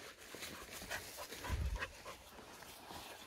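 A dog pants quickly and rhythmically close by, soft breathy huffs with a brief low thump in the middle.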